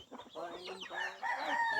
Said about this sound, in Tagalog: Papapasukin natin dyan ang manok.